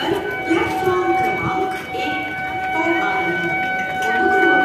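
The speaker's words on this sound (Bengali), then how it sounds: "ট্রেন ঢুকছে" A train pulling into a station platform at Shantipur, with a steady rumble of wheels on rails, faint sustained horn-like tones, and people talking over the noise.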